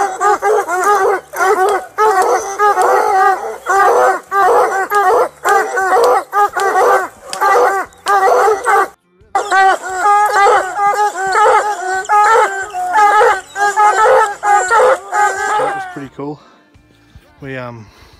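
Hunting dogs bark and howl in a steady, loud chorus at a mountain lion treed in British Columbia, with a short pause midway and the baying fading near the end.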